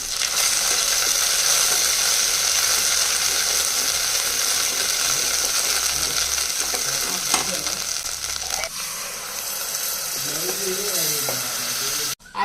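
Gongura leaf paste is stirred into hot oil tempering in a pan, giving a loud, steady sizzle and frying hiss with occasional scrapes and clinks of the spoon against the vessel.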